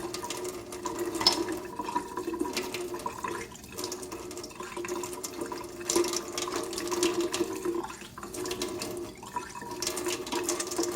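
Running water pours steadily as lab equipment is rinsed under a tap, with small splashes and clinks over a continuous rush, close by and without speech.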